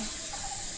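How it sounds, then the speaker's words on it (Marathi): A brief, steady splash of water pouring into a pan of semolina sheera with milk, close and continuous for under a second. "दोन कप पाणी टाकायचं आहे"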